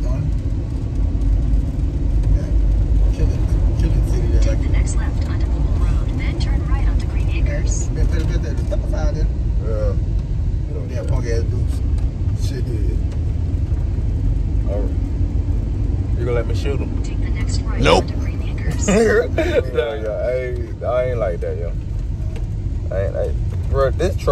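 A truck's engine rumbles low and steady from inside the cab throughout the drive, with road noise underneath and people talking over it.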